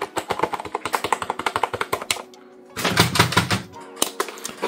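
Rapid clattering keystrokes on a cheap gaming computer keyboard, close and crisp, come in quick bursts with a short pause in the middle before the typing resumes.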